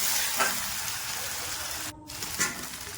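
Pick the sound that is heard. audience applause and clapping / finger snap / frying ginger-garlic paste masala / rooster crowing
frying ginger-garlic paste masala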